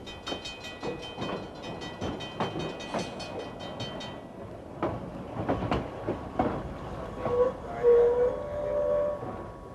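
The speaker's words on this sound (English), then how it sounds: "we'll take a peek at some freights as they move around in the train yard" Freight trains moving around a rail yard, with rhythmic rolling clicks of wheels over rail joints and clanking cars passing fairly close, followed by squealing, screeching wheel tones toward the end.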